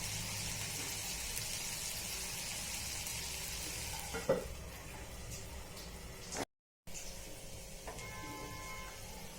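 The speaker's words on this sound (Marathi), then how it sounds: "दोन मिनटं या मसाल्यात होऊ देऊया बटाट्याला" Potatoes cooking in a spiced masala for masala aloo, giving a continuous close-up sizzle and fry with a brief stir or clink partway, then quieter frying after a short gap.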